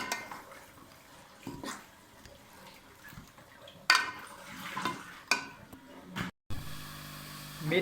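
Spoon stirring a potato and fenugreek curry in a pot, with scattered scrapes and clinks against the metal, a few sharper knocks, and faint sizzling between them.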